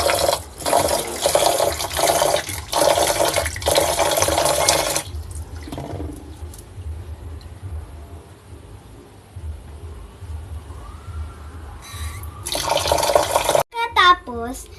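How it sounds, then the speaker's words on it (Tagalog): Water is poured into a cooking pot of rice, with bursts of running and splashing from a tap that stop, go quiet, then start again, followed by a few clattering knocks. "Sumunod ay lagyan ng tubig ayon sa dami ng bigas."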